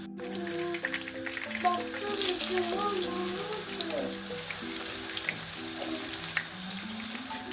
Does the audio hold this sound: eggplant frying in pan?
yes